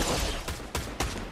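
Fortnite sniper rifle gunfire in a ranked video game match, a few sharp cracks in quick succession over busy game background noise, moderately faint.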